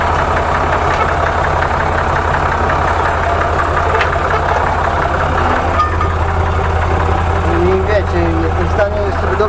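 A Massey Ferguson 255 tractor engine runs steadily while pulling a cultivator in a field, a loud continuous low drone with someone talking over it.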